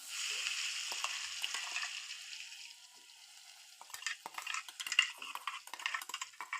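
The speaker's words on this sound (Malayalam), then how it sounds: "വെളിച്ചെണ്ണ നന്നായിട്ട് ചൂടായിട്ടുണ്ട് കടുകിട്ട് കൊടുക്കുകയാണ് കടുകൊന്ന് പൊട്ടട്ടെ" Mustard seeds crackle and sizzle in hot coconut oil, with a steady frying hiss at first, then brisk spoon scrapes and pan clinks as stirring begins, close and fairly quiet, with no voices.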